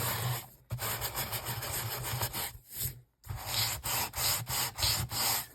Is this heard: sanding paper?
yes